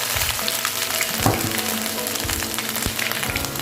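Fenugreek, mustard seeds and ginger sizzle in hot coconut oil with a loud, continuous crackling fry and scattered pops throughout.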